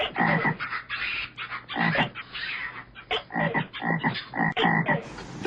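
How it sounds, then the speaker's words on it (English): Frogs croak loudly and close by in a nighttime nature setting near Ha Long Bay, with rapid repeated calls in irregular bursts overlapping one another. "bliss out yourself in a perfect soundtrack of nature at night with geckos, frogs, and gibbon sounds"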